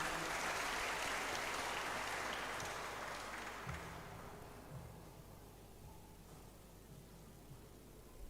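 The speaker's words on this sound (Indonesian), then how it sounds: "Kita beri tepuk tangan" Applause from a congregation at a Christmas morning church service in Manado welcoming Indonesia's Minister of Religious Affairs, a dense, steady clatter of many hands that slowly fades to a quieter hum of the crowd.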